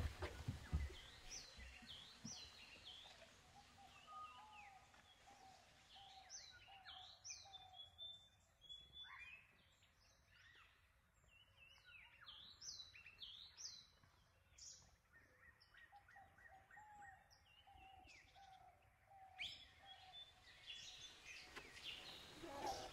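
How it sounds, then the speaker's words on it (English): Several birds sing and chirp in a quiet forest in Bandhavgarh National Park, India, with repeated whistled phrases and trills at a distance, faint and continuous. "All I hear is birds."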